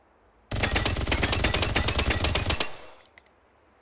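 An SRS-2 rifle in the VR game Hot Dogs, Horseshoes & Hand Grenades, a loud, rapid burst of shots for about two seconds, then a few scattered trailing clicks and rattles before silence.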